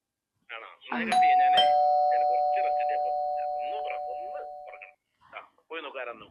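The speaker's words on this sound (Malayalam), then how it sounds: "ആരോ ബെല്ലടിക്കണ്ടേട്ടാ" A doorbell in a home sounds once with a sustained chime that slowly fades over several seconds, while people talk over and after it.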